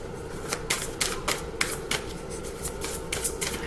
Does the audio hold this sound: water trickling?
no